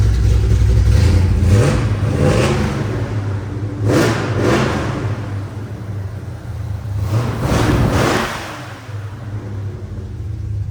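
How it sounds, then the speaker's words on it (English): A 1971 Chevrolet Chevelle V8 with a 3-inch exhaust and X pipe idles with a deep, lumpy rumble, then is blipped in several sharp revs that swell and fall back, loud and close with no talk. "Sounds great. 3-inch exhaust with an X pipe."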